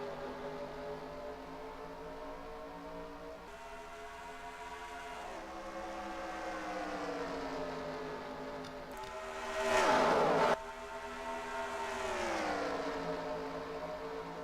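Race cars at Las Vegas in NR2003 drone past as a layered, rising and falling engine whine, a pack of cars sweeping by with one louder close pass, no talk.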